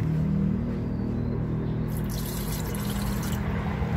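Water runs steadily into a Kyowa KW-1364 1500-watt electric kettle, a soft continuous pouring and filling rumble at close range, fairly quiet and unbroken, with no speech over it.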